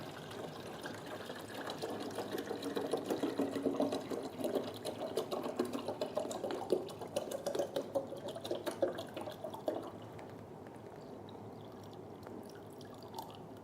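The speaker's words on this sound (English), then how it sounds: "And then we fill to the water tank." Mineral water is poured into the water tank of a UV printer, a faint, steady trickle with bubbling and dripping that grows louder in the middle and then eases off into quiet.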